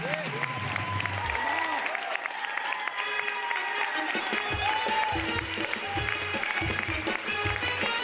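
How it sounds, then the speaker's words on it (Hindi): An audience applauds at a live Hindi comedy show. The clapping is a steady, dense wash, moderately loud, with some voices mixed in underneath. "जोरदार तालियां।"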